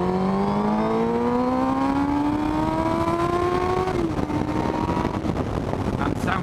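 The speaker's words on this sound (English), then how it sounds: "Oh, I love the sound of this bike, I really do." A Yamaha Fazer 600 motorcycle fitted with a cheap aftermarket exhaust can revs up smoothly in a rising whine, then settles as it shifts, loud and close with wind buffeting the microphone.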